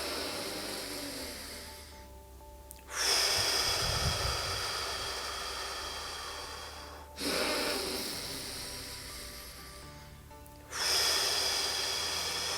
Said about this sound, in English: breathing through your nose for like around 4 seconds